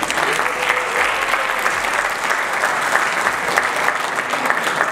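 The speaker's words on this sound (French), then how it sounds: "je voudrais que vous vous applaudissiez d'abord" Applause from an audience at an award ceremony for excellence and merit, sustained dense clapping that stays even and loud for the whole stretch, with no voice heard.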